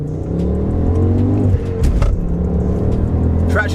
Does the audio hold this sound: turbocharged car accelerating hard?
yes